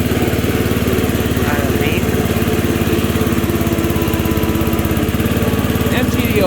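A 1990s MTD riding lawnmower runs steadily with its cutting deck lowered and engaged, giving a continuous close engine drone with a strong, even low throb that holds throughout.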